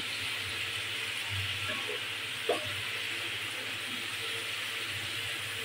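Tilapia pieces and fish heads frying in a masala, a steady close hiss that keeps going, with a soft clink near the middle.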